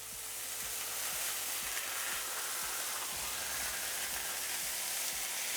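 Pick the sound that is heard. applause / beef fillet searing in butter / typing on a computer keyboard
beef fillet searing in butter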